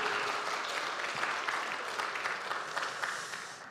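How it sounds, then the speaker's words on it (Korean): An audience claps steadily for several seconds in a large hall at a spring church revival service, a dense even patter of many hands with no voices over it. "이럴 때 박수 한번 치셔도 좋습니다."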